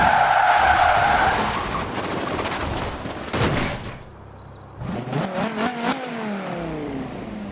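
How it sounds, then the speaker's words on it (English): A car in Forza Horizon 4 drifts into a skid toward a front door. The tyres give a long, loud screech under a roaring engine, then the engine revs climb and fall as the car pulls away. "I'll do a Formula Drift skid into the front door"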